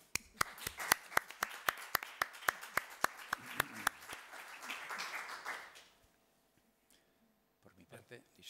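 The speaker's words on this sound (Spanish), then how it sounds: "pediría un aplauso para ellos" An audience at a panel debate on artistic creation claps in a steady, even rhythm for about six seconds, sharp and fairly close. The clapping then stops and voices follow.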